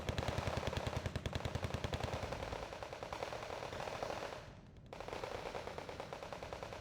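Rapid machine gun fire from a Cold War battle in the real-time strategy game Wargame: Red Dragon, sustained bursts of dense rattling shots with a brief lull near the end before firing resumes.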